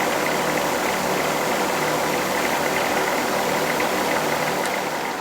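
A John Deere 2040 tractor engine turns over steadily at low revs while driving a blower that moves oats into a shed, giving a constant loud rumble with no talking over it.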